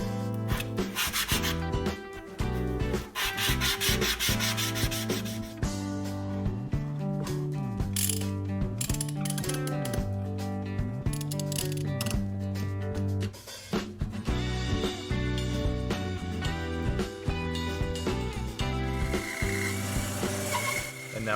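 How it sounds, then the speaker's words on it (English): Steady rasping sanding of a wooden guitar tail block, continuous rhythmic rubbing strokes close up, with occasional mechanical clicks and no talk. "This is the tail block that I'm sanding."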